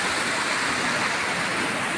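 Water pours steadily from a pond outflow near a waterfall, a constant, fairly close rushing hiss with no pauses or voices.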